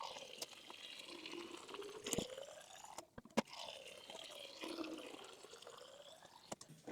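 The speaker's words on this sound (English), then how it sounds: "I'm going to fill up some pitchers with some water" Water runs from a refrigerator dispenser into pitchers as a quiet, steady pour and trickle whose tone shifts as the vessel fills, with a few small clicks and knocks.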